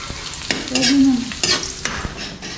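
Vegetables are sautéed in a pan for sinigang, with a brief close sizzle broken by a few sharp scrapes and knocks of stirring over about two seconds.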